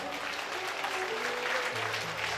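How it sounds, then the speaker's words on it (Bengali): A crowd at a girls' high school silver jubilee celebration in North 24 Parganas applauds women dhak drummers. The clapping is dense and steady, somewhat distant, with faint crowd murmur underneath. "তাদের জন্য একবার জোরসে হাততালি হয়ে যায়।"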